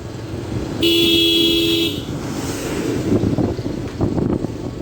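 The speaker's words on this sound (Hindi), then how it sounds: "हॉर्न के उपयोग करते हुए" A loud car horn blares once for about a second, followed by wind buffeting and the rumble of a vehicle on the road.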